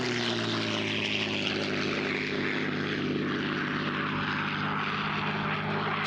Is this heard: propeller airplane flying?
yes